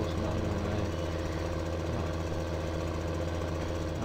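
A steady, droning tractor engine in Landwirtschafts Simulator 2015 runs continuously at an even pitch, loud and close, with no other sounds over it.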